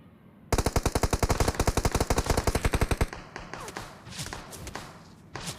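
PUBG gunfire: a rapid automatic burst of evenly spaced, punchy shots for about two and a half seconds, followed by scattered thuds, clicks and a few more distant shots.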